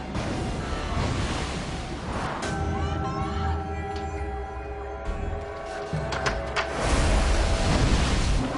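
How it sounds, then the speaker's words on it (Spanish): A tsunami surges into a room, a dense, loud roaring rush of water with deep rumbling, shifting tones and swelling intensity near the end. "Toneladas de agua irrumpen en la habitación."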